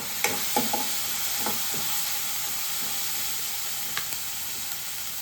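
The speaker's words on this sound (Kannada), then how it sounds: "ಸೊ ಫ್ರೈ ಆಗ್ತಾ ಇದೆ ಚೆನ್ನಾಗಿ." Soft sizzling in a pan as ingredients fry for a ridge gourd curry, with a few light spoon scrapes and taps against the pan over a steady hiss.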